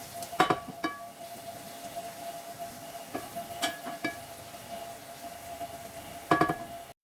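Onion frying in a pan with tomato, garlic and chili pepper, a soft steady sizzle with a few sharp clinks of a utensil against the pot near the start, middle and end.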